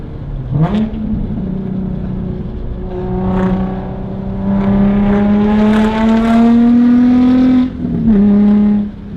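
A car fitted with a Tomei Ti titanium exhaust revs loud and close, a deep droning engine tone climbing steadily in pitch, briefly dipping, then holding high before easing back.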